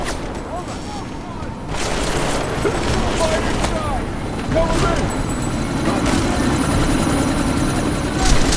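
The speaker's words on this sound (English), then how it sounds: "That chopper's about to take off!" A helicopter lifts off in Deus Ex: Mankind Divided, a loud, steady rotor and engine roar that builds slightly, mixed with scattered gunfire bursts and game noise.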